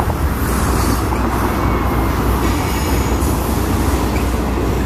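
A CSX freight train with distributed-power locomotives rolls steadily past up close, a loud continuous rumble of wheels and cars with faint rail squeal, no voices.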